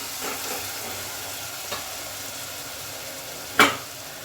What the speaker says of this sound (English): saute for 2 minutes.